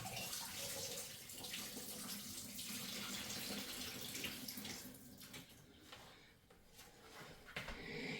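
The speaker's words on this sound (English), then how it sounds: "what I'm going to do is dump out this water so I don't put water everywhere" Water is poured off thinly sliced potatoes into a sink, a steady splashing rush that lasts several seconds, thinning and sputtering toward the end, with no voices over it.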